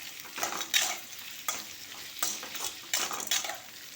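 Sesame seeds and tender bottle gourd sizzle and fry in a pan for a chutney, with a steady crackling hiss and several scraping strokes of a spoon stirring the mix; no talking.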